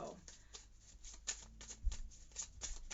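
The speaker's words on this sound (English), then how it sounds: "we're going to go ahead and just shuffle these cards and get them ready" Tarot cards being shuffled in quick, soft riffling bursts, close by, with a voice speaking faintly underneath.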